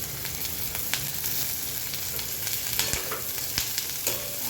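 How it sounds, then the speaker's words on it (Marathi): Finely chopped capsicum fries in hot oil with masala and salt while a spatula stirs it, producing a steady close sizzle broken by sharp scraping clicks against the pan. "तेलामध्ये टाकल्यानंतर त्याच्यामध्ये चिरलेली बारीक चिरलेली शिमला मिरची टाकूया"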